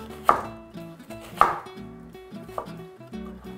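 A knife chops a fresh garden onion on a board, with three sharp, separate chops spaced about a second apart and lighter knife taps and clatter between them.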